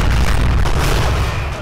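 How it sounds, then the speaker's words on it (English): A deep, rumbling explosion from the video game Vivisector: Beast Within blows up the player character, a loud, sustained boom with dense low-end roar that barely fades across the moment. "I have a theory about how this game blows up the player character"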